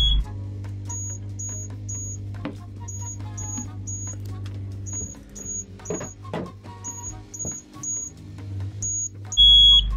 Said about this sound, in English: Uh-oh, smoke alarm!